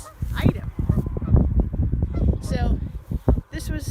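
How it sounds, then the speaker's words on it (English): Canada geese honk repeatedly near a creek wetland, a series of loud, close calls mixed with other sounds and voices. "So these are Canada geese, not Canadian geese."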